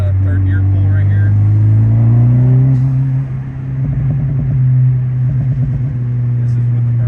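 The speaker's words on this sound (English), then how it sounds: "Here's the third gear pull right here." A 2023 Honda Civic Type R with an HKS SQV4 blow-off valve and recirculation kit pulls hard in third gear, a loud close engine drone rising steadily in pitch, then a dip and rumbling burbles.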